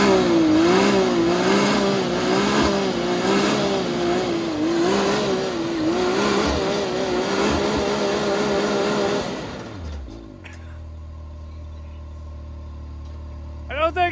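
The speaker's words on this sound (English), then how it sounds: "Don't see many front wheel drive burnouts in a Maverick." A Ford Maverick attempting a front-wheel-drive burnout, its engine held at a loud, wavering high rev for about nine seconds before dropping to a low idle, with a couple of faint knocks at the end.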